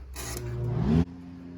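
A spray gun lays a light tack coat of paint onto a 6-litre LQ9 V8 from a Cadillac Escalade during a rebuild, a steady close hiss lasting about a second before cutting off, leaving a low hum.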